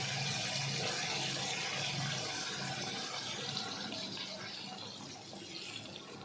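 Water poured into a pan of simmering chicken curry gravy, a steady rushing splash lasting several seconds that slowly tapers off, close and fairly loud, with no voices.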